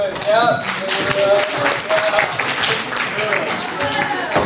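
Audience clapping at an anime convention panel, a dense steady patter of hands filling the room with voices and chatter mixed in throughout.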